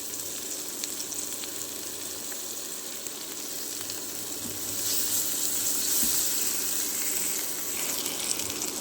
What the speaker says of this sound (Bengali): পেঁয়াজ রসুনটা আমি লাল লাল করে ভেজে নেব